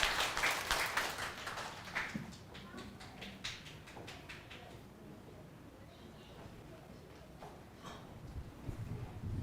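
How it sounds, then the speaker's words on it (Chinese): A church congregation claps for the singers who led worship, the applause brief and fairly quiet and fading into room noise, with a pastor's voice in the background. "我们再一次掌声谢谢他们哈"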